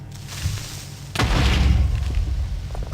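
Minecraft creeper explodes and knocks out a single block, a sudden loud boom that bursts in and rolls on with a rumbling, crackling tail through the rest of the moment, with no talk.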